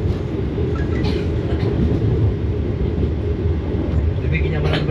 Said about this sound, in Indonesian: Kereta api Argo Bromo Anggrek sudah berangkat dari stasiun Surabaya Pasar Turi